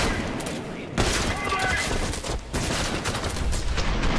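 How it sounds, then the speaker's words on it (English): Grenades explode in slow motion in the first-person shooter Trepang2, a dense run of heavy booms and gunfire bursts with a sharp hit near the start, mixed under game effects and a player talking. "Yeah, let's just open up with some grenades."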